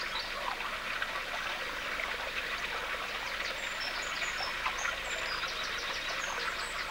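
Clear water runs into a lagoon at Slapton Ley, a steady close trickling and rushing flow with faint birdsong chirping in the background.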